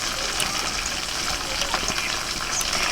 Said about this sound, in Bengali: অল্প একটু জল দিয়ে মশলাটা গুলে নেব